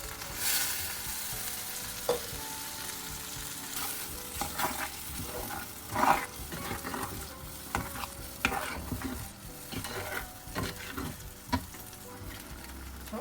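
Pepper garlic gravy simmers in a pan on low heat, a steady soft sizzle and bubbling under repeated scraping stirs of a spoon, close and moderately loud with irregular clinks.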